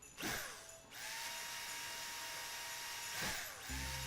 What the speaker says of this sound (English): Wait, where'd the drill go?